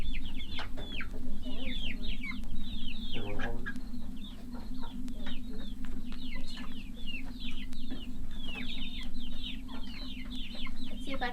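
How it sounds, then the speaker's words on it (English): Hens, including Dominique hens, cluck and murmur continuously inside a backyard chicken coop over a steady low hum, with occasional louder squawks. "The challenge of catching a chicken."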